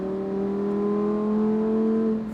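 A Lamborghini Huracán STO with a 640 hp engine accelerates on the Nogaro circuit, a steady loud engine drone climbing slightly in pitch over a couple of seconds, close and continuous with no talk.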